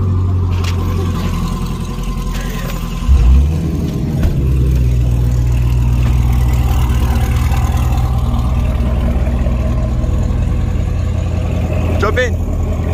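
A McLaren 570S sports car engine rumbles loud and close, holding a steady deep idle with a brief surge of revs, while people talk excitedly nearby.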